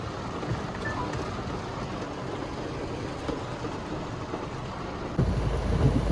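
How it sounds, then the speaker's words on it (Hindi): Heavy rain pours in a dense, steady hiss with low rumbling beneath, and a louder surge of rumble near the end, as if thunder rolls in the distance. "क्या खतरनाक बारिश हो रही है भाई।"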